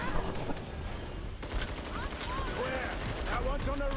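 Rapid video-game gunfire from a SCAR rifle, with dense, continuous bursts of shots throughout, loud and close, along with game effects and faint voices.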